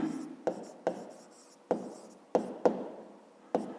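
A pen scratches out handwritten notes during a fifth-grade maths lesson on cube volume, with about seven quick, quiet strokes in an uneven rhythm against a hushed room.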